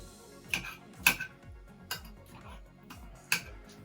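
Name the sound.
spoon breaking up vegan beef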